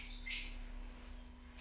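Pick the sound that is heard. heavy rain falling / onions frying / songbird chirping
songbird chirping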